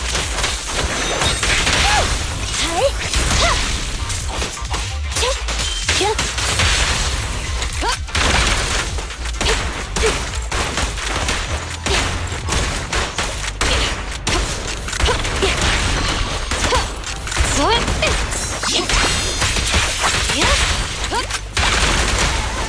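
Gunfire in the video game Zenless Zone Zero, dense sustained bursts of shots mixed with booms, crashes and mechanical clatter, loud and continuous throughout with a voice briefly heard in the mix.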